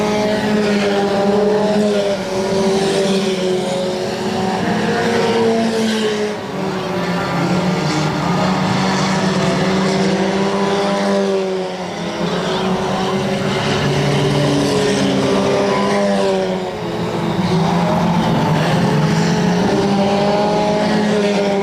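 Race cars lap Electric City Speedway in Butler, Missouri, their engines roaring steadily and loudly, with rising and falling passes as the pack goes by.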